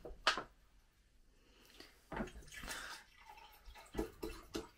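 Drink poured one-handed with the weaker hand, a few short splashy bursts of liquid with gaps between them, close and fairly quiet, no speech.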